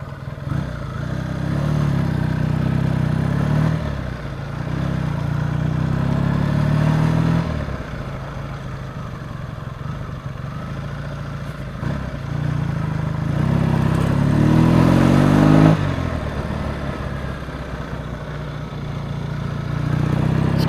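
A Triumph T140 motorcycle fitted with Dunstall replica silencers and AMAL Mk2 carburettors, running loud and close with a steady, lumpy engine note and a few brief blips of revs rising and falling.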